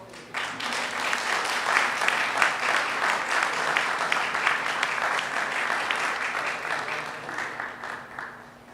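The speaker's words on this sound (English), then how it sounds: "We have one more round of applause for our." A crowd at a school softball event applauds a player's introduction, a steady wash of clapping that holds for several seconds before tapering off, with faint voices underneath.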